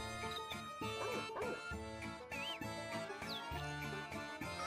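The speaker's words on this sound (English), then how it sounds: "There is a dog!" Dog barking in the Little King's Story video game, short yips and barks mixed into bright, busy game music that plays continuously throughout.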